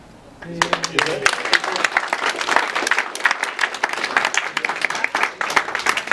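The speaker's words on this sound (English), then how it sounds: "I appreciate the applause" Applause from the audience at a monthly local meeting follows a vote electing a secretary by acclamation, starting abruptly after a brief spoken bit and continuing as dense, fairly close clapping to the end.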